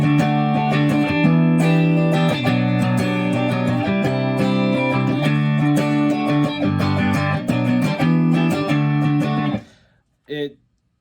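Guitar playing the second verse of a song, moving back and forth between sustained, ringing chords at a steady level. The chords fade out near the end, and one short strum follows.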